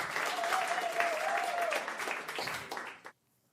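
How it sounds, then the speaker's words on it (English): A crowd applauds in a sustained burst of dense clapping that holds steady, then thins out and stops abruptly into silence near the end. "Or is it the applause?"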